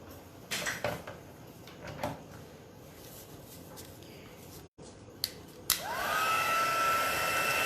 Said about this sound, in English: And we will now heat set these elements.